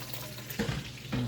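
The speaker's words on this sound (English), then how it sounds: "Our water is boiling." Salted water boils in a pot on a stove for fettuccine pasta, giving a quiet, brief bubbling and hissing with a couple of soft surges.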